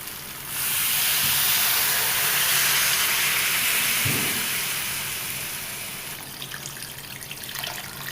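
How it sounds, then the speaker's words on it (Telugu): Tamarind juice is poured into a simmering fish curry in a pot, a steady, loud rushing pour lasting several seconds, then fading to a softer bubbling hiss, with no voices. "ఇప్పుడు చింతపండు రసం మొత్తం వేసేసుకోండి."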